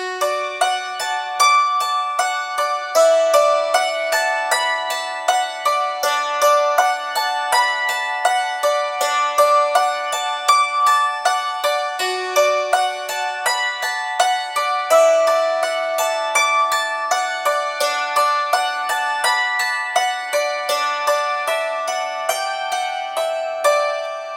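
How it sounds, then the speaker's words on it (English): Hammered dulcimer strings struck in a skip-one, hit-one pattern, a steady stream of bright ringing plucked notes alternating across the strings and sustaining over each other, close and clear with no voices. "So what I'm going to be doing is missing a string, then hitting one, and missing one and hitting one."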